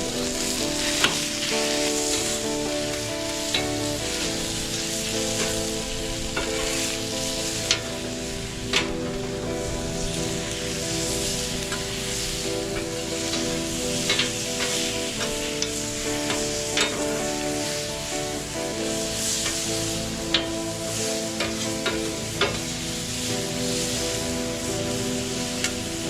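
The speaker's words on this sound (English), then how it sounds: "We want to get a sear on these steaks." Steaks sear on a griddle with burners at medium high, giving a steady, dense sizzle and crackle that holds throughout with no voices over it.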